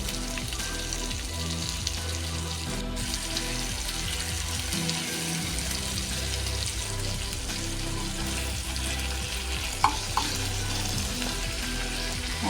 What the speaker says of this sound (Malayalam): നമ്മുടെ ഒരു സൈഡ് മീൻ ഇവിടെ നന്നായി പൊരിഞ്ഞ് വന്നിട്ടുണ്ട് നമുക്കിത് തിരിച്ചിട്ട് കൊടുക്കാം